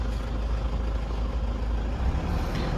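Toyota Fortuner with a 2KD diesel engine, under diagnosis for stalling while driving, revved steadily to around 2000 rpm; a loud, continuous low engine drone holds at an even pitch throughout with no voices.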